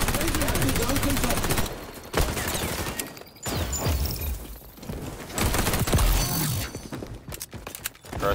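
Rapid MP7 submachine gun bursts in the XDefiant shooter game, loud and close, coming in repeated volleys with short breaks, mixed with game effects and a player talking over the action.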